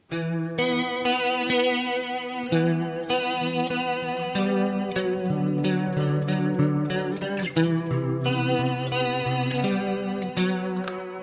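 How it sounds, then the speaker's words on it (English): An electric guitar through a Headrush Prime vibrato preset plays sustained chords and notes with a steady wavering pitch effect, loud and continuous, with no voices. "Here you have the vibrato, something which I personally like."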